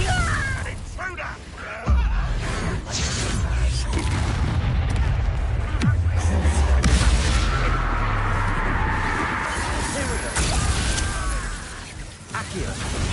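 Confringo explosive spell blasts in the video game Hogwarts Legacy, several heavy booming impacts amid combat noise, with character voices speaking between the blasts.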